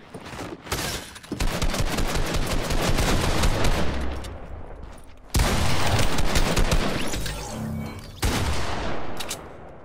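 Gunfire in a Fortnite box fight, rapid loud bursts of shots in quick succession with brief pauses between volleys, close and dense, with a few sharper single blasts.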